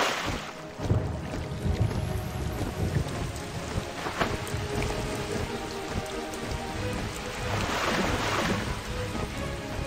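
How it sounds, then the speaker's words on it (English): Broad, steady wash of crashing waves in the Wizard101 game world of Avalon, a continuous rushing roar with a swelling surge near the end, loud and close, with no voices. "You hear the crash of waves and see a portal rising up to reveal the way below."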